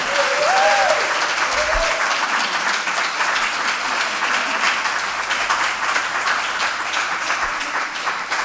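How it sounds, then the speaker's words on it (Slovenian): An audience claps for the band at a charity concert at the MAF 2023 music and arts festival. The dense, sustained applause continues for the whole stretch, with a brief voice near the start. "Še en aplavz za naš čudovit band."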